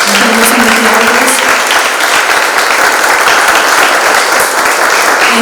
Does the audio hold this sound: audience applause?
yes